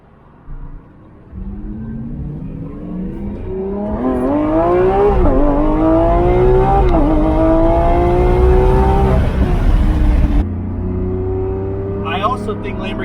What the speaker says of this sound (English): you can enjoy the sounds of the car.